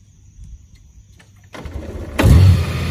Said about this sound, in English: you hold that button down while pulling in the brake, and the bike starts